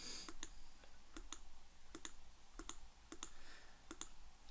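Sharp mouse clicks on a computer, about a dozen crisp isolated clicks spaced unevenly, some in quick pairs, over a steady low background hiss, close and fairly quiet, no speech.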